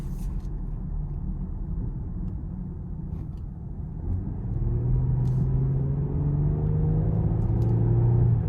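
Steady cabin drone from a 2026 Lincoln Aviator twin-turbo V6 on the road, low rumble and tire noise that swells as the engine pulls harder midway, with a rising engine tone and no talk.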